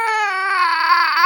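A small child cries during nebulizer treatment, one loud, close, sustained wail with a wavering pitch and no pause.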